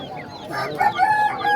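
Roosters and chicks at a Basirhat village market: a rooster crows in drawn-out calls amid steady chicken clucking and peeping, with faint crowd bustle behind.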